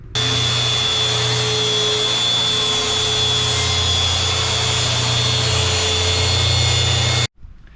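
A Makita track saw rips through a full sheet of plywood with a loud, steady high-pitched motor whine and blade roar held for about seven seconds, then cuts off abruptly into quiet; no voices.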